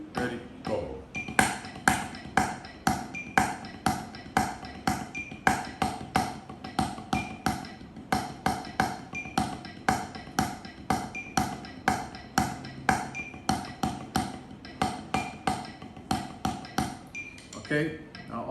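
Drum kit phrase played with sticks, each beat a sharp cymbal-like ping over snare and kick hits, repeating in a steady groove throughout, close and fairly loud with no talking.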